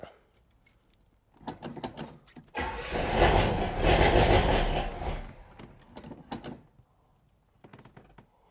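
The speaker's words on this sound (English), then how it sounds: "That thing sounds like it's got exhaust manifold leak like a mother effer." A 1972 Pontiac Grand Prix engine with an exhaust manifold leak cranks and starts, roaring loudly for a couple of seconds with a rough, ragged exhaust note, then settles as clicks and rattles follow.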